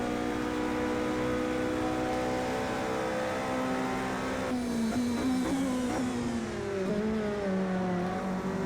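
A race car at the Nurburgring GP in a racing video game drones steadily, then its engine pitch drops and wavers as it brakes for a corner, loud and continuous without speech.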